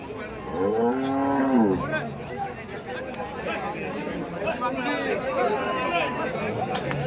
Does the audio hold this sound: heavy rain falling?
no